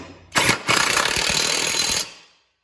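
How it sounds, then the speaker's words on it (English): Impact gun tightening the blade bolt on a John Deere lawn tractor, a short rapid hammering rattle that starts with a brief burst and then runs steady and loud for about a second and a half before stopping. "Go ahead and zoom this in with my gun here."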